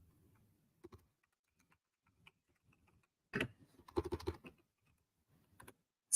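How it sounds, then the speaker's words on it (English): Bursts of typing on a computer keyboard, a few scattered keystrokes followed by a denser flurry of quick clacks, close and fairly quiet, with no talking over it. "It's very weird typing like this."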